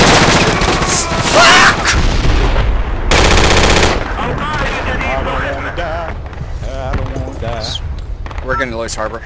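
Heavy automatic gunfire and sharp rifle bursts in the military shooter Project Reality during an attack on a harbor, loud and close in tight rapid volleys, with someone shouting and talking over the shooting.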